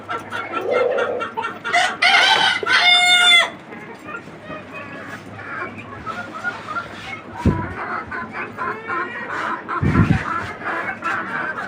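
A free-ranging local hen cackles loudly and nearby after laying an egg, a burst of rapid squawks followed by softer, scattered clucks, with occasional background knocks.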